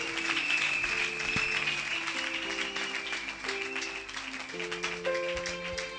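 A church congregation applauding Jesus fills the space with sustained, dense clapping, accompanied by a few held musical tones and faint voices in the background.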